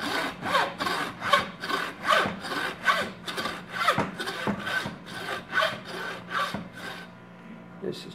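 A hand saw cuts through a deer skull to remove the antlers and skull plate, in steady rhythmic back-and-forth strokes, close and loud, with the rasping pace slowing near the end as the bone gives way.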